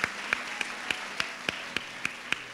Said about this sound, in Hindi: ताली बजा के प्रभु को धन्यवाद बोलेंगे।